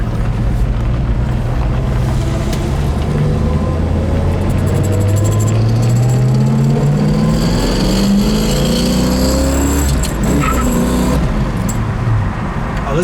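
A black 1966 Ford Mustang coupe driving, its engine roaring loudly and rising in pitch as it accelerates, heard up close under heavy wind noise.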